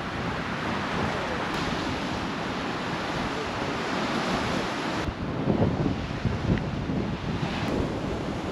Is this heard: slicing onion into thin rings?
no